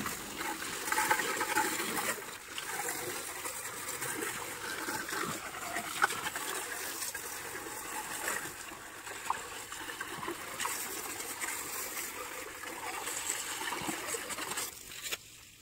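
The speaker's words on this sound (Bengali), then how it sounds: "এই যে মিক্স করার পরে কিন্তু এই যে আমরা এখন এটা ছাড়লাম, এটা কিন্তু এই যে ভরতাছি পানিগুলো" Water pouring and trickling steadily into containers, a continuous splashing stream heard close for a long stretch, likely for filling poultry drinkers, without talk.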